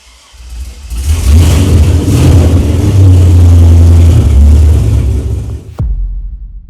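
A 1933 Peugeot car engine cranks, fires and runs with a loud, steady low rumble for several seconds, then cuts off abruptly with a sharp click near the end.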